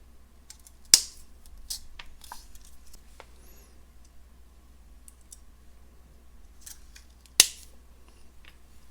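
Scissors snip through short pieces of beading wire for a teardrop necklace, two sharp close clicks several seconds apart with faint handling noise between.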